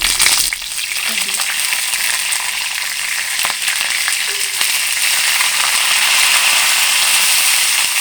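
Dried red chillies and curry leaves crackle and sizzle steadily in hot tempering oil for a mango dal, a dense, loud hiss with scattered pops throughout and no talking.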